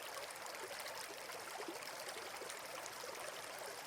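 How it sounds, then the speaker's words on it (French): Steady flowing river water, a continuous soft rushing and trickling like a stream, constant and fairly faint with no voices. "Écoute le son de cette rivière."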